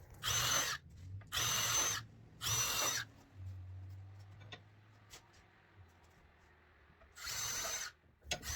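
Four loud bursts from a power drill boring nail holes in exterior wooden window trim, three close together at the start and one after a pause filled with low hum and light tapping.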